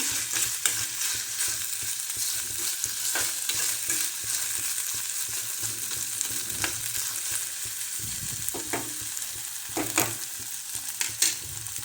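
Onion and ground masala paste frying in oil in a home kitchen for a cluster bean dish, a steady close crackling sizzle with occasional stirring scrapes and pops throughout.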